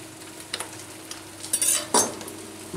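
A lamb liver sarma mixture with spearmint being stirred in a pan, with soft scraping and light sizzling and a few louder clatters of the utensil against the pan near the end.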